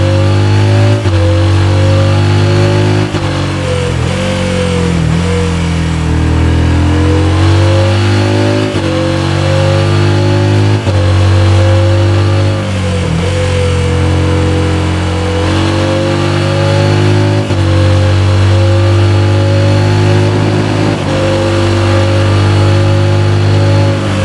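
A Yamaha XSR 700 motorcycle in the RIDE video game runs loud and steady, its engine note rising and falling through repeated revs and gear changes, heard alone without voices.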